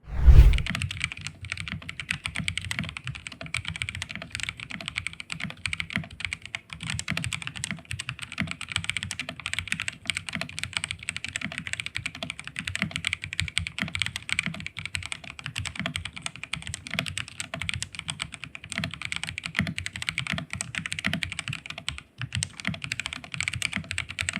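Fast, steady typing on a Kreo Hive 65 keyboard, a dense run of close, crisp keystrokes continuing without pause.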